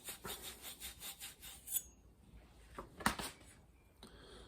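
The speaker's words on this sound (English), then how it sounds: "After you solder it, give it a quick rub with the wire wool" Wire wool rubbed briskly over a freshly soldered copper Yorkshire fitting, a run of quick rhythmic scratchy strokes, then a pause and a few separate sharper rubs, close and fairly quiet.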